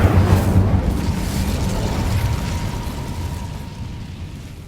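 Incendio fire spell cast in the video game Hogwarts Legacy, a loud burst of roaring flame that hits at once and then trails off into a long rumbling whoosh, with no voices over it.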